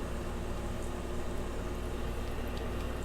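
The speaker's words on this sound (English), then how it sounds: "it seems like the wings are frying" Chicken wings frying in hot oil at about 160 °C: a steady, dense sizzle and bubbling hiss that holds evenly throughout with no talking.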